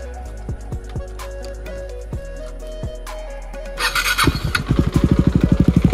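A fully serviced motorcycle with newly fitted parts clicks and ticks a few times before its engine catches and revs hard in fast, throbbing pulses, loud and close.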